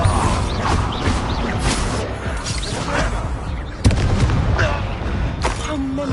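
A Bombarda spell blast goes off in the Hogwarts Legacy video game, a sharp boom near the four-second mark amid continuous creaking, rumbling combat noise at close range.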